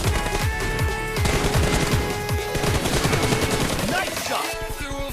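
Loud, sustained automatic gunfire in a mobile shooter game running at 90 fps on a Redmi K50i phone, with rapid repeated shots over a music track with singing throughout.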